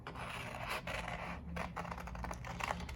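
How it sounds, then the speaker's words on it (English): Scissors snip through paper while a shape is cut out in an art lesson, a quiet run of close, scratchy cuts and rustling with no voices. "We're gonna use our scissors to cut both these shapes out."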